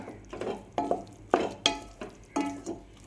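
Urad dal porridge with coconut being stirred in a pot, a series of scraping, clattering spoon strokes in uneven bursts, close by with no talking.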